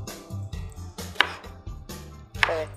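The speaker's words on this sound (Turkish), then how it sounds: "Yok, 4-5 tane de biber doğrayacağız." Peppers being chopped on a board while making Malatya tava, a regional dish from Malatya, with a handful of close, sharp knife strikes in an uneven rhythm and no talk.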